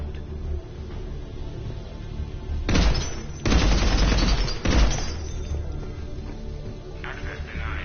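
Gunfire in the video game Mass Effect 3 Legendary Edition: several dense, rattling bursts of automatic fire over a low rumbling background, loud and close, with a short gap between the main volleys.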